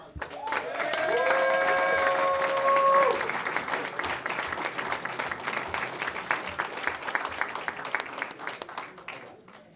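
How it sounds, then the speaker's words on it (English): A big round of applause from an audience at a board of trustees meeting, loud cheering and whoops at first, then steady clapping that slowly thins out. "One more big round of applause."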